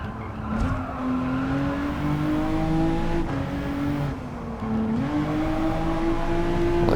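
A car engine in Gran Turismo 7, played in PSVR2, holds a steady drone that rises and falls as it shifts and revs, with two short dips in pitch between stretches of climbing power.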